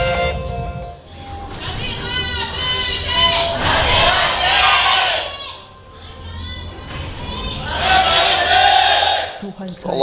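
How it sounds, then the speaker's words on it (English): An arena crowd at a League of Legends esports match in the LCK cheers and shouts for a team in two loud swelling waves, with a brief dip between them. "A lot of cheers for Anarchy."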